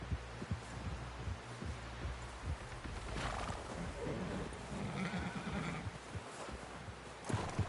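A horse whinnies in a PS4 video game amid clip-clopping hooves and low throbbing, with a loud neigh rising midway over a busy, dense soundscape and no talk.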